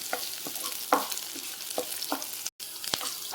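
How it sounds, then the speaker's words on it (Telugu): Onions and green chillies fry with tempering spices in a pan over a soft bed of sizzle, while a spatula scrapes and taps in irregular strokes through the clip and the frying stays close and steady. "తిరుమాత దినుసులు వేగిన తర్వాత ఆనియన్స్, పచ్చిమిరపకాయలు ఇలా యాడ్ చేసుకొని బాగా ఫ్రై చేసుకోవాలండి."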